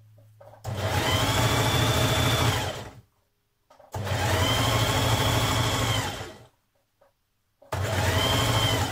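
A sewing machine stitches a 1.5 cm seam down the underarm of a jersey tee sleeve, running in three steady motor bursts of about three seconds each, separated by short pauses, close and fairly loud with no talking.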